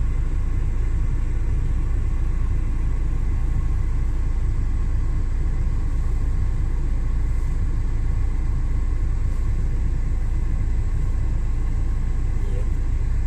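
Steady low rumble of a car driving, heard from inside the cabin, a constant road and engine drone with faint background voices.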